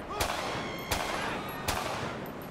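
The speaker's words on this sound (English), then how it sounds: "Are you tired of your gun sound being this slow?" Slow gunfire in the video game GTA V with the LSPDFR police mod: three sharp, evenly spaced gunshots roughly three-quarters of a second apart, each cracking out over a low background hum with a brief ringing tail.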